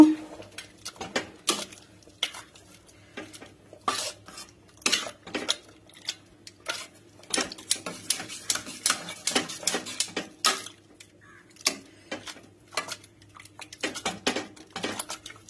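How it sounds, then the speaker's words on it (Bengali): Boiled masoor lentils mashed in a pot with a utensil, giving a string of irregular close clinks and scraping taps against the metal, loud and quiet bursts spaced unevenly. "ডালটা সিদ্ধ হয়ে গিয়েছে, আমি একটু ঘুটে দেব"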